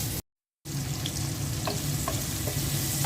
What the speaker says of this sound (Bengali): মাছ ভাজা তেলের মধ্যে আমি পেঁয়াজ কুচি দিয়ে দিচ্ছি